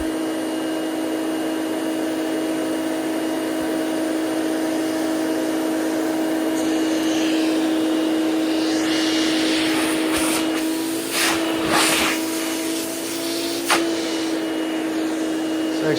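A Hoover Celebrity QS vacuum cleaner runs with a loud, steady motor drone and airflow whine throughout, carrying a slight bearing noise, with a few brief bumps near the end.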